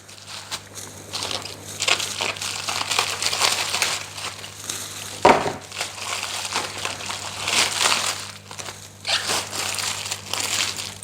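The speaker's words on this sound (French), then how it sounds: "on va venir déballer la Formaggio" Plastic wrapping on a packaged Formaggio cheese pizza crinkles and crunches as it is pulled open, a steady close rustle with one sharper crackle midway.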